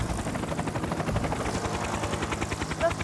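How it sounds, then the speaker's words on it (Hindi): A helicopter's rotor thumps in a fast, steady rhythm with an engine whine, loud and close throughout. "आहा, टॉम थॉमस अपने हेलीकॉप्टर के साथ।"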